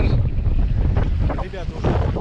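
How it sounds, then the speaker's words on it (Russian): Strong wind at sea on a kitesurfing spot buffets the microphone in a steady low roar, with rushing air and water noise around it and no speech. "Сегодня у нас отличный ветер."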